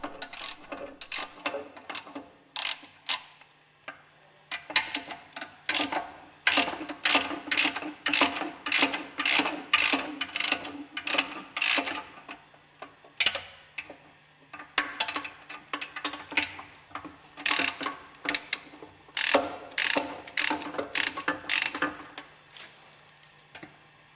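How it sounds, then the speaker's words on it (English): Hex head screws are undone on the bearing housing of a Westfalia OSD18 separator, heard as repeated close ratcheting clicks in quick bursts with short pauses between them, with no voice. "Unscrew the hex head screws on the bearing housing."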